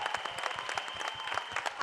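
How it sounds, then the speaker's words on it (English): An audience applauds at the Dhurandhar film trailer launch, quick scattered claps that stay moderately loud while a voice talks over them. "So please give a big round of applause to Ojas."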